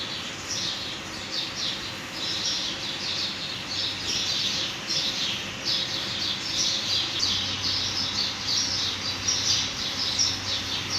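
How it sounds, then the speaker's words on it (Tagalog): A bird indoors, where someone is sweeping, squawks and chirps in quick, steady bursts that carry on without a break, clear and fairly close over a low hum of room noise. "Ayan guys, o yung ibon."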